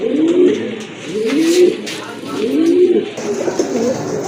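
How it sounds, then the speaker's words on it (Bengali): Pigeons for sale at a market coo in a steady series of low, throaty calls, about four rolling coos close by and fairly loud over faint background noise. "আরেক জোড়া কবুতর"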